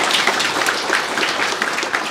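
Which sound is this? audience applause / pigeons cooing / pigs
audience applause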